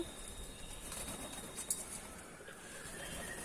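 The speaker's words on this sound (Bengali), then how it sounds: "দেখো প্রচুর পায়রা এই দেখো ওদের জন্য খাবার যে ওরা সবাই নেমে এক এক করে খাচ্ছে" Pigeons gathering to eat food on a rooftop coo faintly and rustle against a quiet, airy outdoor background, with a brief soft flutter partway through.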